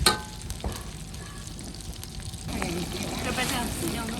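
Dried chilies dropped into a hot wok of oil for Guizhou spicy chicken, a brief clatter followed by a steady close sizzle that grows fuller, with a voice briefly heard over it.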